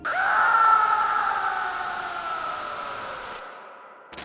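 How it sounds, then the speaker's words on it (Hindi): A boy's long, drawn-out scream used as a horror sound effect for an Indian headless-ghost legend, one sustained wail that starts loud and slowly fades, alone with no other sounds. "वहाँ उन्हें किसी लड़के के चिल्लाने की आवाज़ें आती हैं"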